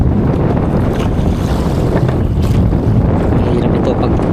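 A small fishing boat pitches on rough, wavy open sea, with heavy wind buffeting the microphone and a constant roar of water and waves, loud and close.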